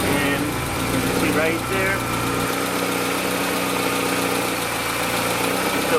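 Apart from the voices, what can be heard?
Honda Accord F23 turbo engine starting and idling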